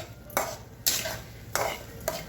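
Cooked drumstick pods and dal being stirred in a pan: four distinct scraping strokes of a spoon against the metal, spaced about half a second apart, over a faint background hiss.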